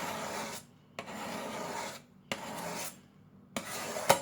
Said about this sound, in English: Put the final hone on the edge, and you want to hear it grind like that